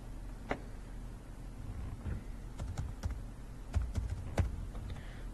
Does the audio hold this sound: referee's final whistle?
no